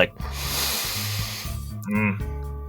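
A human voice imitates a deep, drawn-out sniff: a long breathy inhale up close, then a short voiced snort-like sound near the end.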